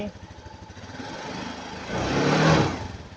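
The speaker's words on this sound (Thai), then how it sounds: "ลองเร่งเครื่องดิครับ" A Suzuki Jelato scooter engine idles roughly, then revs up louder in a short burst before easing off.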